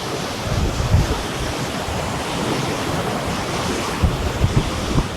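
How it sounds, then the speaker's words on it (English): Sea breeze on a Vietnamese beach with breakwaters, a steady rushing wind buffeting the microphone over continuous surf, loud and close, with no voices. "The breeze is blowing, yes, a sea breeze."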